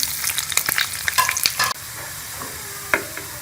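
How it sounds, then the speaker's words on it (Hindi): Onions sizzle and fry in ghee in a pan for a tadka topping on haleem, with close crackling and spatter as they are stirred, then a quieter steady fry. "इसके अंदर हम प्याज डालेंगे और प्याज को ब्राउन कर लेंगे।"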